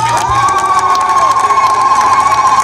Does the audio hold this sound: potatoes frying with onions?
no